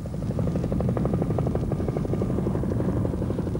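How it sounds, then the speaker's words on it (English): A giant Mil Mi-6 helicopter flies overhead with a loud, steady rotor chop, its rapid blade pulses beating evenly over a deep engine drone. "Giant Mi-6 helicopters were brought in to assist in the effort to extinguish the flames."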